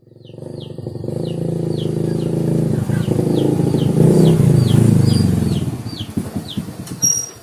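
A motorcycle engine drones close by with a steady buzzing note that rises slightly and then sputters off, while small birds chirp repeatedly in the background.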